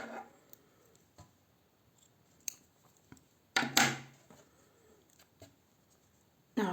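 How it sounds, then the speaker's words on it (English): Scissors cutting crochet yarn, a short crisp snip near the middle amid faint scattered clicks and handling noises in a quiet room. "we will cut this yarn"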